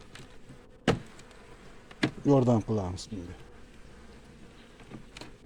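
Honey bees drone around an opened hive frame as a brood frame is moved to strengthen a weak colony. The steady buzz sits under a voice, with a few sharp knocks of frame handling.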